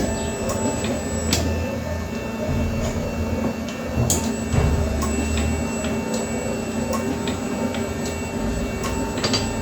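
A Predileta Modellare 100 production machine is switched on and runs with a steady mechanical hum and regular light ticks and clacks, fairly loud and close, with no talking.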